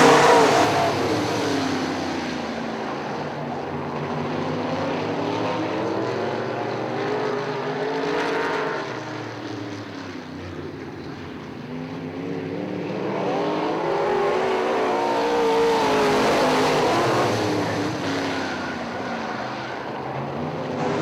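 Modified race cars circle Cherry Speedway in Michigan, a loud sustained engine roar that swells and fades as the field sweeps past through the turns, with no voices.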